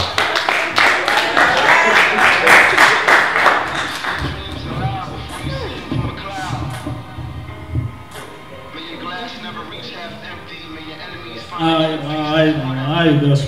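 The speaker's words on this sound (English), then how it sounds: "Let's give him another round of applause." Audience applause for a spoken word performer, a short burst of rapid clapping that fades after a few seconds, followed by someone speaking over background music.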